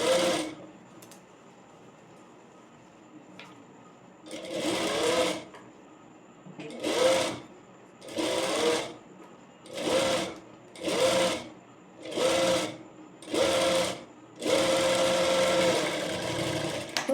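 Sewing machine stitching a three-dart blouse: repeated short bursts of rapid mechanical whirring, about nine runs separated by brief pauses, fairly close and moderately quiet, with no talking.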